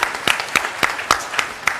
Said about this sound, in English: give a big round of applause actually to all of you for being here as graduates today